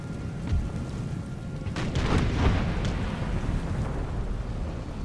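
Artillery guns fire in an Empire: Total War battle, a rumbling run of booms and blasts that swells at around two seconds, with wind-like battlefield noise throughout and no voices.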